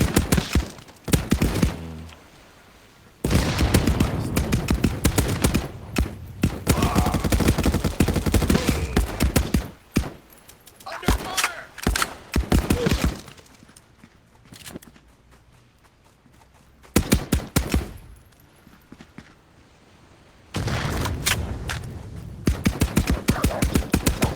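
Gunfire in the VR shooter Contractors VR comes as loud, close bursts of rapid shots broken by quiet pauses, with the bursts spread across the stretch and no talk.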